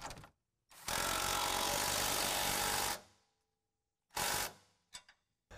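A ratchet tightens a 13 mm nylock nut during an Air Lift LoadLifter 5000 air bag kit install on a 2022 Toyota truck. A close, sustained two-second burst of mechanical whirring is followed by a shorter burst, with no talking.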